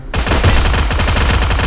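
Rapid automatic fire from a P90 submachine gun in a video game, a dense unbroken burst of shots starting abruptly and continuing loud to the end.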